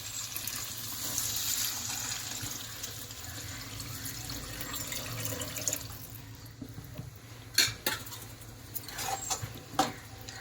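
Tamarind juice mixed into a simmering lady's finger curry, with soft wet sloshing and stirring up close, then a few sharp clinks of a spoon against the pan. The sounds are quiet, and no one speaks.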